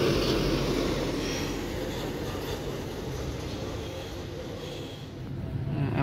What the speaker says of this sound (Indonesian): Ini nih bus.